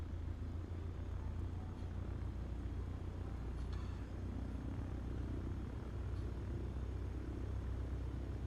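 An airliner taxiing in a flight simulator during a VFR community flight at Tokyo Narita, a steady low engine rumble and hum that holds level for the whole stretch, moderately close with no talk.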